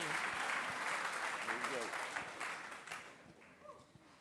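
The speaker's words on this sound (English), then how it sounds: "let's give Michael a nice round of applause" Audience applause at the Formula SAE Lincoln electric awards ceremony, a full round of clapping that fades toward the end, with some voices mixed in.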